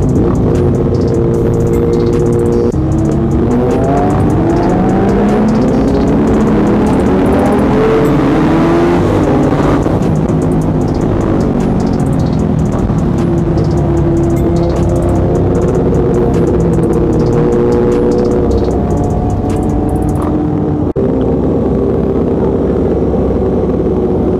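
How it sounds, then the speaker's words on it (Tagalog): A big bike engine with a newly fitted exhaust pipe drones loudly and continuously, its pitch rising and falling as it revs during a group ride, with other engines blending into the roar. "Grabe yung pipe ni Sir Ian Gilas Vlogs, kasi bago yung pipe ni Sir Ian Gilas Vlogs ngayon guys, kakapagawa lang nila"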